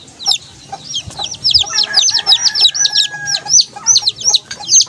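Several SBR chicks, being treated for drying feet, peep in bright, rapid, repeated chirps. The peeping is close and fairly loud and continues without talk.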